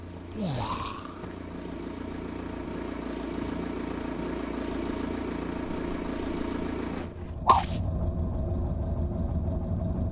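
A truck engine in the video game Cataclysm: Dark Days Ahead idles with a low, steady rumble throughout, broken by a clattering thump near the end before the idle continues.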